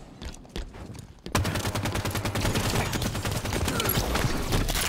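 Gunfire in Halo 5 multiplayer, a few scattered shots giving way to sustained rapid automatic fire, loud and close, continuing without pause and with no talk.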